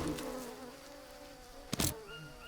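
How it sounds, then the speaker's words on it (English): Flies buzz around a dead animal in the Green Hell jungle survival game: a continuous droning insect hum with one short, loud swell partway through, heard alone without speech. "That buzzing noise is a dead animal."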